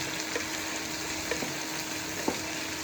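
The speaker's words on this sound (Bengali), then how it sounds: "পেঁয়াজগুলোকে দিয়ে দিলাম, আর এটা একটু নেড়ে ছেড়ে নেবো এদিক ওদিক।" Onions frying in a pan for a cheesy egg curry, giving a steady close sizzle with a few soft scrapes as they are stirred around.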